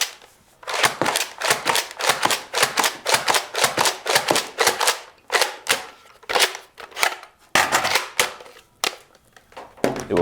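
A Nerf Fortnite SMG Zesty blaster slam-fires foam darts in rapid bursts, each shot a sharp close pop, steady strings of repeated firing with brief pauses between runs and no talking.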